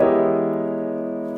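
A single sustained chord rings out on a keyboard instrument, steady and clear, slowly decaying over about a second and a half with no voices.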